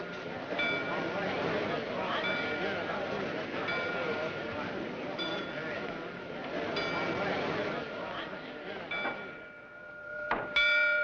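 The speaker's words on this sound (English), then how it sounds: "Sneed, stop those bells!" Bells ring continuously with bright, sustained tones over a busy background of voices, ending with a few sharp clangs.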